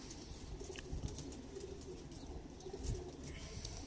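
Soft, fairly distant cooing from a bred pigeon pair of a blood-line breeding stock, heard under steady background noise with a few faint chirps.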